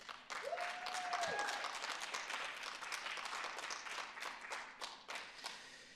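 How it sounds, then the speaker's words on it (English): An audience at a city's State of the City address gives a round of applause for a book festival committee and staff, with scattered, fairly quiet clapping that continues throughout. "let's give the Gaithersburg Book Festival committee and staff a great round of applause"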